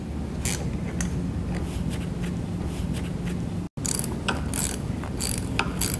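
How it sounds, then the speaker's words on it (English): A ratchet tightens bolts on a replacement gear pump for a Bettis electro-hydraulic operator, producing rapid repeated clicking strokes up close, briefly cut off partway through before resuming. "We can go ahead and tighten these bolts here."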